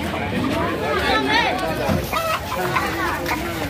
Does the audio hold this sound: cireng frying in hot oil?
no